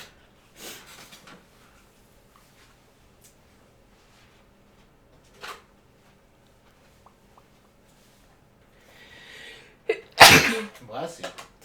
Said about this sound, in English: Very loud sneeze.